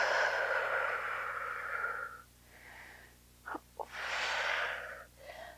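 Slow, audible exhale during a yoga hip mobility flow: a long breathy rush of air that fades, followed by a couple of short sharp sniffs and another softer breath out, close and clear in a quiet room.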